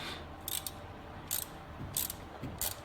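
A ratchet wrench loosens a 13 mm bolt on an alternator of a 1996–1999 GM 3800 Series II 3.8-litre V6, giving four short, fairly quiet clicking bursts separated by pauses, close and without talk.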